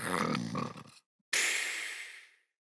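A voice imitates a wolf snoring loudly in a storybook setting: a rasping, throaty inhale, a short silence, then a long hissing exhale that fades out, all close up.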